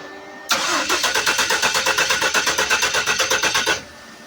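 A turbocharged Ford 300 inline six in a Torino cranks over on the starter for about three seconds with a steady rhythmic chug, loud and close, but never fires or catches.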